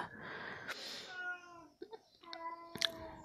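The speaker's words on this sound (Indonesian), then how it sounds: "kalau kalian dengar ada suara kucing, abaikan. Itu kucing aku yang satu lagi" A cat meows a few times, nearby and fairly faint, with drawn-out tonal cries in a quiet room.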